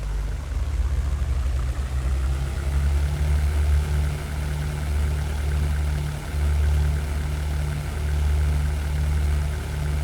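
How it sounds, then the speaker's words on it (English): A single running engine on a Messerschmitt 110 in the 1998 flight game European Air War drones as a steady, loud, low idle, holding an even rumble throughout with slight surges. "take off with single engine on a Messerschmitt 110"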